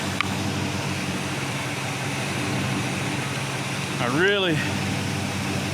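A 1979 Chevy square body truck engine runs at a steady idle with its mechanical fan turning, a continuous close rumble and whir; a brief voice-like rising tone surfaces near the end.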